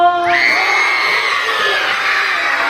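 Children at a pre-primary school workshop shouting loudly together, a sustained, loud crowd yell from many young voices lasting the whole stretch.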